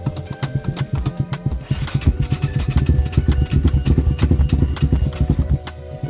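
Lifan ZS175FMN engine in a Lifan KP Mini 300 swap being started, a rapid uneven chugging of cranking and sputtering firing that runs loud and close throughout.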